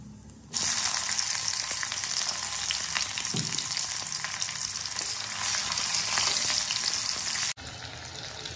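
Oil sizzles and fries loudly and steadily in a pan while cooking local chicken curry, a dense close hiss that begins abruptly and continues for several seconds before dropping off.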